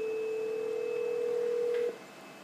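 A Grandstream GXP2100 desk phone gives a steady tone while extension 1748 is dialed, the tone cutting off sharply near the end and leaving quiet line hiss, with a faint key beep just before.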